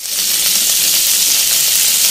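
Crabs frying crisp in hot oil in a pan, a loud, steady, close sizzle and hiss that fills the whole stretch without pause.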